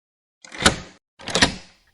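A door is bolted shut in two separate firm mechanical strokes, each a short rising slide ending in a clunk, loud and close with silence between them and no voice over them.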